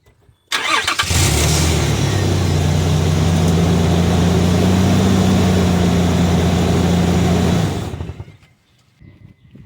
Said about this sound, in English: Right now I'm gonna turn on the vehicle